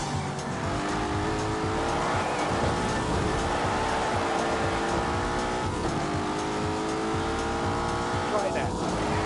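4-litre twin-turbo V8 car in a PS4 racing game, engine note rising and falling steadily over continuous road and tire noise, loud and sustained throughout with occasional talk.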